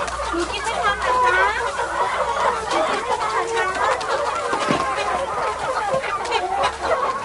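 Organic chickens on a community farm cluck steadily in a dense, overlapping flock chorus, close and loud, with occasional sharper squawks and voices mixed in.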